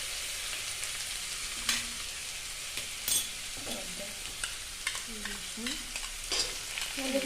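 Chopped onion, ginger-garlic paste and diced tomato fry in a pan for a pointed gourd kofta curry, a steady close sizzle broken by a few sharp spoon scrapes and soft stirring clatters, with no talking.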